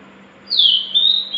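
A murai batu, or white-rumped shama, in ngelowo style sings a short, clear, high whistled phrase, near and fairly loud, rising and then sliding downward.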